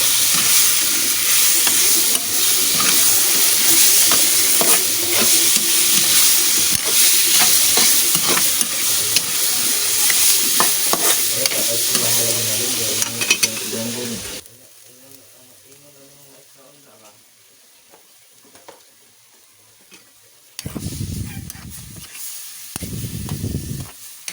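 Food sizzles loudly and steadily in a pan as sauce goes in, then drops to near quiet before short bursts of sizzling return near the end.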